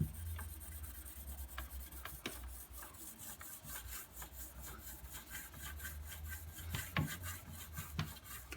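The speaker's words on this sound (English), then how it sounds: "Using the nut, just slowly polish along the top." A walnut rubbed slowly along a wooden furniture top to polish out a watermark, giving soft, close scraping and rubbing strokes with a few light taps, quiet and alone.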